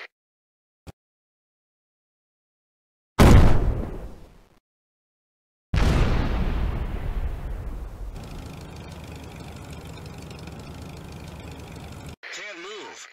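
Tank shots in the mobile artillery game Tank Stars: a faint tick, then a loud booming blast that decays, followed by a second heavy explosion trailing into a long, steady rumble that cuts off abruptly.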